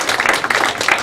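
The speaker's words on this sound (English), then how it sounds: "Let's give them a round of applause" Applause from an audience at a county school board of trustees meeting, honoring middle school division winners; a brief, steady burst of clapping from a room of people.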